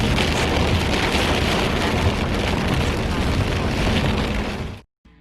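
Heavy storm with pounding rain and rumbling thunder near Moab, a loud dense roar that continues steadily before cutting off abruptly near the end, with speech faintly mixed in.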